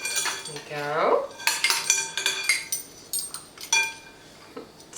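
A metal tablespoon clinks and scrapes against a bowl and containers while scooping flaxseed for oat muffins, with a rising whistle-like tone early on and a series of sharp close clinks.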